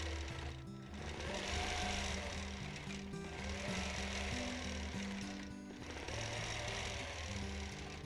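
Sewing machine stitching free-motion quilted arcs on a quilt: a continuous fast mechanical needle hum that shifts in pitch as the speed changes, close and steady, with no voices.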